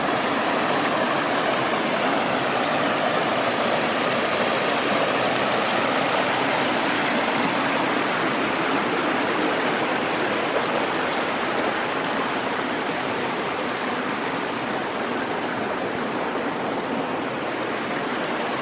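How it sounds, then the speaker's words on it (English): Water from a waterfall and river stream in Icebox Canyon rushes in a steady, loud broadband roar that carries on unbroken throughout, with no voices. "Look at that waterfall."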